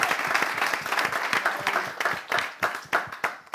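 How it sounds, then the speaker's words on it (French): A French TV game-show audience claps through a semifinal episode, dense steady applause that breaks into a few separate bursts of clapping toward the end, with no talk over it. "Applaudissements"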